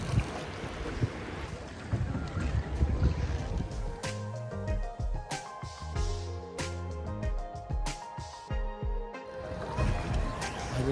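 A small boat carrying six people moves across the water of Ha Long Bay, Vietnam, with a steady low motor drone. Wind buffets the microphone, and water splashes against the hull.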